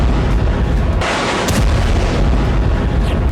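Air strikes and rocket fire pound Gaza, a loud, continuous rumbling roar of blasts with a heavier burst partway through, distant yet overpowering and with no voices.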